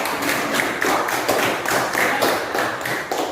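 Classroom applause for a student, dense rapid clapping from many hands sustained loudly and steadily with slight swells, no voices over it.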